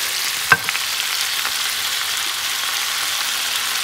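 Vegetables fry in a hot pan with a steady, broadband sizzle, a sharp clink of a utensil near the start and a few soft stirring taps, no voices.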